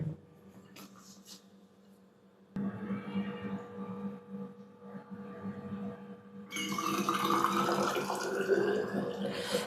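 Hot water is poured into a flask in a paying-guest room, starting faint and trickling, then turning into a louder, rising gurgle as the flask fills.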